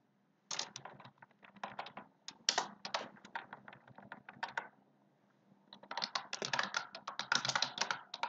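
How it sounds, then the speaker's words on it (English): Typing on a computer keyboard, with quick bursts of close, crisp key clicks broken by a pause midway and then resuming rapidly, with no talking over it. "Keyboard is what you are using for writing and typing."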